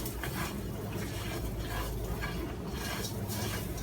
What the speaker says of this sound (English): it says keep stirring until the rice is lightly brown